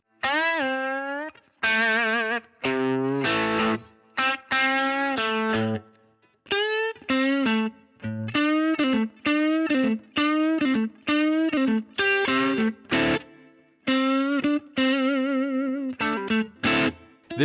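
Electric blues guitar struck with a penny rather than a pick, driven through distortion and spring reverb, a halting sequence of bent and choppy notes and chords, loud and close with brief gaps between phrases.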